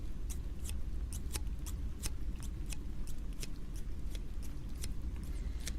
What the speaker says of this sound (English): I think these are meant for kitchen scissors or something.